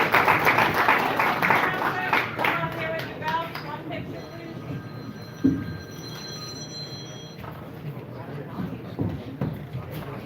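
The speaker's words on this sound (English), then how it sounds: "Round of applause for David Benavidez" A crowd applauds boxer David Benavidez at a postfight press gathering, scattered clapping and shuffling mixed with overlapping voices and room bustle.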